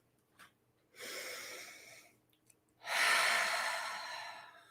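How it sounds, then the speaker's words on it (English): Two deep breaths during a calm grounding exercise, each a long, airy inhale-exhale swell lasting a second or more, the second louder and fuller, close to the microphone with no talking. "So let's take 3 breaths"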